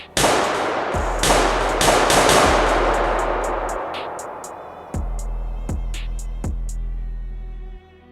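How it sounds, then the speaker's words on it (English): Gunshots ring out in a courtroom in a dramatized scene: a burst of sharp, loud reports with echoing tails, then a quieter stretch and three more distinct single shots spaced about a second apart, with no voices. "Then came another shot. And another."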